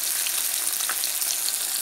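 Pieces of fish frying in hot oil for a fish fry masala give off a steady, dense sizzle that holds evenly from start to finish, close and continuous with no voices.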